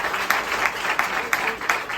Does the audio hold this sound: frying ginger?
no